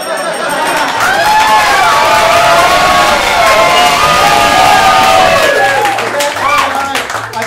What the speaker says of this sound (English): There's going to be a lot of loud cheering tonight